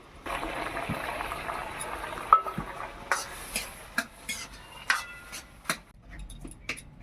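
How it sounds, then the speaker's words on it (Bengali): A ladle mashes cooked pumpkin in a pot, making soft wet squelches and sharp scraping clicks against the metal, irregular and close, growing more frequent toward the end. "এটা হাতাতে করে একদম ঘেঁটে নেবো একদম গলে যাবে ডালের মতো করে ঘেঁটে নেবো"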